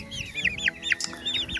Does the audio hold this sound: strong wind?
no